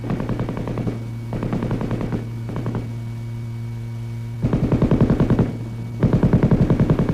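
An M60 7.62 mm gas-operated, belt-fed machine gun fires long automatic bursts up close, rapid even rounds rattling over a steady low hum, with brief pauses between strings of fire.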